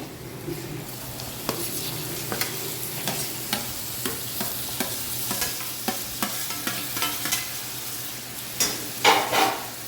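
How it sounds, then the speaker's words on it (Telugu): Tomatoes frying in oil in a pan for a drumstick masala curry: a soft, constant sizzle with repeated spatula scrapes and knocks at an uneven, unhurried pace, close by and fairly quiet. "అన్నీ కొంచెం నూనెలో వేగితే బాగుంటుంది. ఇవ్వండి టమాటాలు వేసేస్తున్నా"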